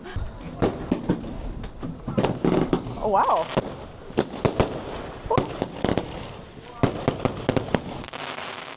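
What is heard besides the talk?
fireworks in the night sky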